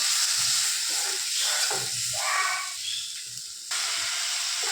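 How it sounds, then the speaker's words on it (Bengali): Faint hissing sizzle of ground cumin and coriander spices frying in a pan, steady and close, with a few soft knocks and shifts in intensity. "এবার আমি মশলাটাকে ভাজা ভাজা করে নেব।"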